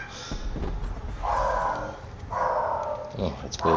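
Two dogs barking at each other, one of them a neighbour's dog, a few close yelping barks in short bursts over a busy Fortnite game soundtrack.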